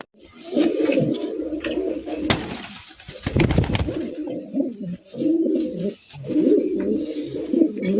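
Racer pigeons coo in repeated throaty bursts, loud and close, with brief pauses and a few sharp rustling or flapping noises between the calls.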